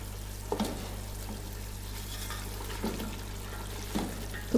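Chicken biryani masala frying in a pot of oil as the water cooks off: a soft, steady sizzle with a few faint scrapes of stirring, quiet and alone.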